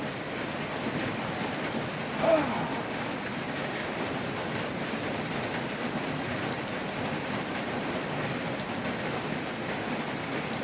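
Steady rain pours down with a dense, even patter throughout, broken by one brief louder knock near the start; no voices.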